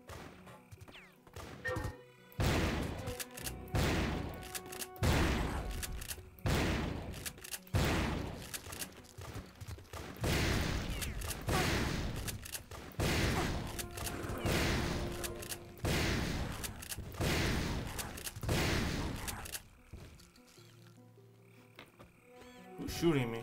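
Turok 3 video game gunfire, rapid loud bursts of repeated shots and blasts hammering almost continuously for most of the stretch before a quieter tail, with game sounds mixed in.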